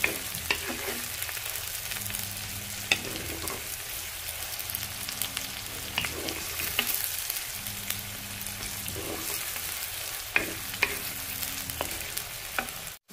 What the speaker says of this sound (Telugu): ఇది మ్యాక్సిమం కలుపుకుంటూనే ఉండాలండి, అప్పుడే చికెన్ ఫ్రై టేస్ట్ బాగా వస్తుంది